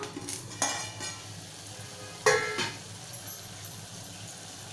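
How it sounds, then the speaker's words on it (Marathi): Malvani-style mutton curry with masala is stirred in a pan, giving a few scraping, clattering strokes over a soft, low sizzle. "फिरवून घेऊया एकदा बघा मटणामध्ये मसाले आणि वाटण छान मिक्स झालं आहे"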